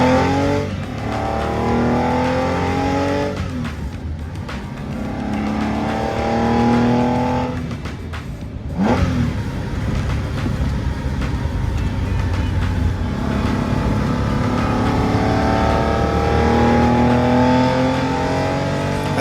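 A 1965 Porsche 904 GTS engine roars and revs through gear changes while driving, rising and falling in pitch, loud and close throughout.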